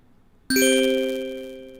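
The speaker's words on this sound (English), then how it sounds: "This one is a ding." A single bright ding strikes cleanly after a moment of silence, its bell-like tone ringing on and slowly fading away.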